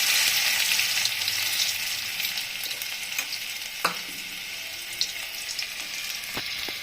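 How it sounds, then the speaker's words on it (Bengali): Garlic sizzles steadily in hot oil in a pan for a Bengali fish stir-fry, a dense bright hiss with a few stirring clicks and knocks, close by and free of speech. "তেল গরম হয়ে গেছে, এখন আমি রসুনটা ছেড়ে দিব।"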